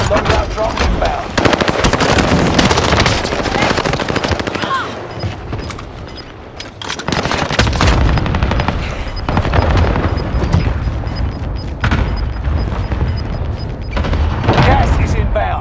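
Loud, close automatic gunfire in the battle royale game Call of Duty: Warzone, including a Sten, with dense rapid bursts and heavy booms that keep going almost throughout, broken by brief lulls, with game voice lines mixed in.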